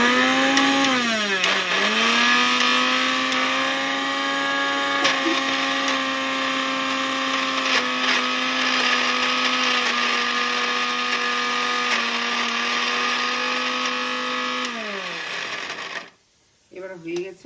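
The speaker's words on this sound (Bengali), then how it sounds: "আর একটু জল দিয়ে আমি আরেকবার মেশিনে ঘুরিয়ে নেব।" An electric mixer-grinder blending pointed gourd paste with water runs as a loud, steady motor whine for about fifteen seconds, its pitch dipping briefly at the start, then winds down and stops, leaving a few faint clunks.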